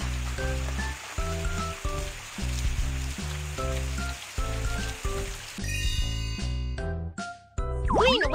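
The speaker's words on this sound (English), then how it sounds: "Teeth clean with a water gun." A cartoon water gun in a Babybus kids' dental game sprays teeth clean, a hissing, fizzing spray bursting in near the end over a bouncy background tune.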